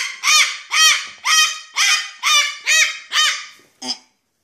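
A pet bird screams seven times in a steady rhythm, each call loud, harsh and close, then gives a shorter final cry. There is no talk over the calls.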